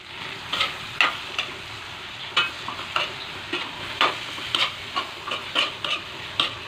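Two eggs frying with ampalaya in a pan, a constant sizzle broken by a dozen or so sharp spatula scrapes and knocks in an uneven rhythm, close and clear.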